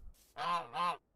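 A goose in Minecraft with the All of Fabric 5 modpack gives two quick nasal honks in a row, close and clear, with no talk over them.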